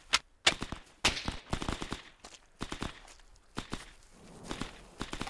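M1 Garand rifle fire in the video game Hell Let Loose: a string of sharp, punchy cracks at an irregular pace, some close and loud, others quieter, with no talking.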